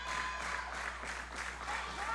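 Wrestling crowd at an OVW televised match cheers and applauds steadily, a dense continuous roar of clapping filling the arena throughout.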